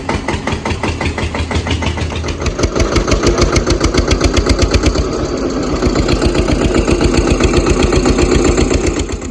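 A farm tractor's diesel engine runs close by, its rapid, steady chugging pulses continuous throughout and growing slightly louder after the first couple of seconds.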